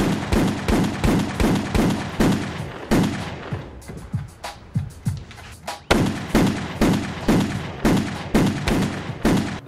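Rapid gunfire rattles through a vampire movie scene in long, regular bursts of loud, close shots, with a short lull of scattered pops and echoes before the firing resumes.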